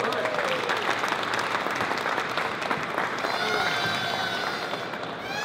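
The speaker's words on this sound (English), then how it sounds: "Give him a big round of applause." Applause for an executive stepping onstage at a tech conference evening event in Barcelona, a loud dense round of clapping from a large audience, with whistles or cheers rising near the end.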